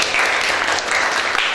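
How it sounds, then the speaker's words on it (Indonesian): A classroom of students applauding together after a science experiment lesson, a dense continuous wash of clapping across the whole short stretch with no voices over it. "Tepuk tangan buat kalian."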